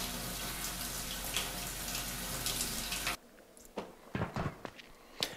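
Steady hiss of running shower water in a survival video game, loud and continuous for about three seconds before cutting off abruptly, followed by a few scattered clicks and light knocks.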